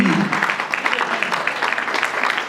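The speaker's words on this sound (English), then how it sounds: "Can we give ourselves a round of applause?" Brief burst of clapping from diners at a charity fundraising dinner, loud and close, choppy and uneven over a couple of seconds with a voice mixed in.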